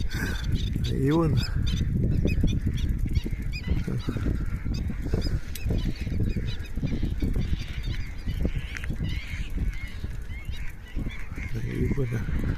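Geese or similar waterfowl honk repeatedly from close by near a boat on the open sea, the calls mixing with steady wind and water noise while a voice talks now and then.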